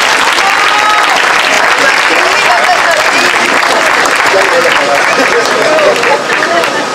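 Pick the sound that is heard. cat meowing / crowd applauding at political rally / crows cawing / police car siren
crowd applauding at political rally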